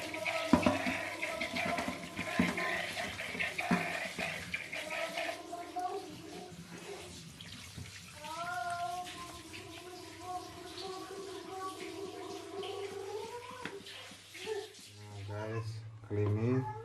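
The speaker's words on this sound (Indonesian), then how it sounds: "kali ini kita cuci bersih biar hilang kotorannya juga dan pahit-pahitnya hilang" Pieces of banana tree stem are washed in water, with sloshing and splashing close by, while people talk over it throughout.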